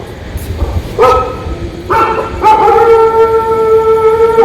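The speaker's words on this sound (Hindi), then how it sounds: "ओए डॉग को देखते किस पर भौंक रहे।" Dogs barking at night in a dark street, several sharp barks and yelps in separate bursts, fairly close and loud over a low background rumble.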